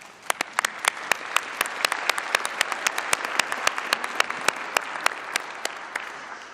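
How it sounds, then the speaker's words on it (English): Applause rises from the assembly hall audience at a closing ceremony, a steady wash of many hands with crisp individual claps popping out clearly near the front, sustained throughout. "I really would like to give them a round of applause"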